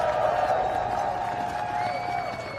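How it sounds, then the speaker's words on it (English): A crowd at a Make America Great Again rally in Latrobe, Pennsylvania applauds Charlotte Pence Bond, with steady cheering and clapping that holds loud for several seconds before easing slightly at the end. "Would you give her a big round of applause?"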